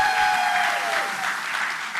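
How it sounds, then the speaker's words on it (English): Steady audience applause at a Suffolk National Night Out send-off event, a continuous crowd of clapping hands that holds evenly and tapers slightly toward the end. "Applause."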